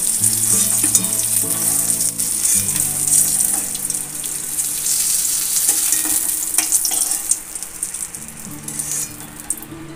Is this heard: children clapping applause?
no